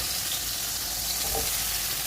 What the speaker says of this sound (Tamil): இதில் பேலன்ஸ் இருக்கிற ஆயில் கூட நம்ம இந்த காலிஃப்ளவரை ஃப்ரை பண்ணி எடுத்துக்கலாம்.